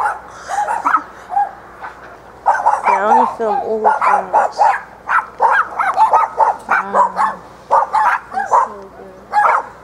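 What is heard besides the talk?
dog barking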